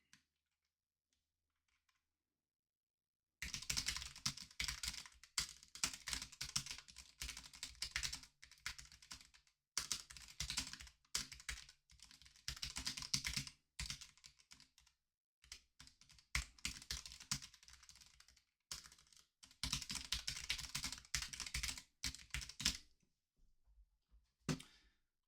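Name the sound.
typing text on a computer keyboard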